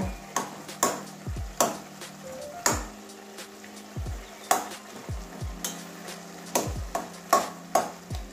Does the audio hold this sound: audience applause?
no